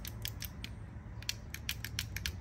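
A Tremec T56 transmission synchronizer from a C6, pushed and shifted by hand on the bench during a rebuild, gives a run of short, close metallic clicks and creaks over a low hum, with no talk.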